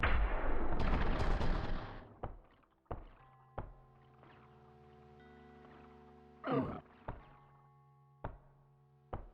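Bolt ACR gunfire in the video game Cruelty Squad: a sharp blast with a long rumbling tail, then several separate single shots spaced a second or two apart, each with a short ringing echo.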